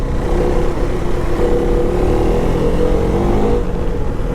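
A KTM 390 Adventure single-cylinder motorcycle engine pulls hard on a quiet back road, a steady loud drone with rising tonal whine as it accelerates, wind rush mixed in throughout.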